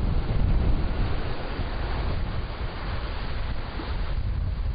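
Ocean surf breaking along the basalt coast of the Penghu Islands, a continuous broad roar with wind buffeting the microphone, loudest at the start and then steady throughout.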